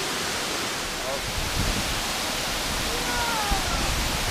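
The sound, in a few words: Amicalola Falls waterfall rushing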